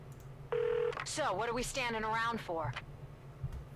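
Cell phone being dialed in Saints Row: The Third, a sustained dial beep followed by warbling, sweeping electronic tones over a low game background hum.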